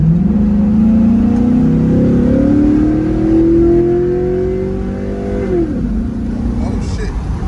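A tuned 2002 4WD Yukon with 4.11 gears and a K&N intake revs up, its engine note climbing steadily for several seconds before dropping off. People talk over it at moments.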